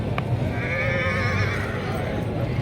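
A Marwari horse at an outdoor horse show gives one drawn-out wavering neigh that rises above a dense, noisy crowd with talking.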